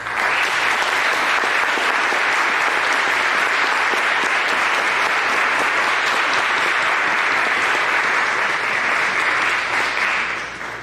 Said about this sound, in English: these students all deserve a huge round of applause